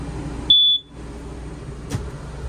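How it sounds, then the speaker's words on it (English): A smoke detector inside a 2025 Palomino Real-Lite HS-2114 truck camper gives one short, high, piercing electronic chirp, loud and close, followed by quiet room tone and a faint click. "It does have a smoke detector in the unit"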